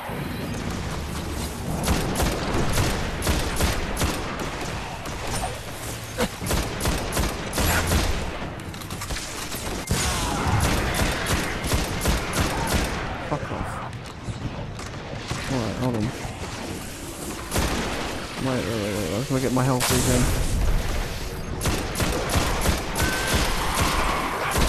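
Sustained gunfire in a Destiny beta firefight, rapid loud volleys of shots rattling almost continuously, with someone talking over them at times.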